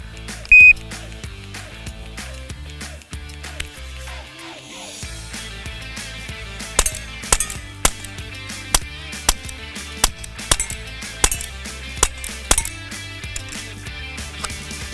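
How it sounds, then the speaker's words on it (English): A Walther PPS M2 BB pistol fires at steel targets, starting with a shrill electronic shot-timer beep, then a string of sharp pops and metallic clinks at irregular intervals, close and distinct with no talking. "I'm gonna shoot these targets here and see how quick I can rattle off the 5 shots and hit the 5 steels and time myself."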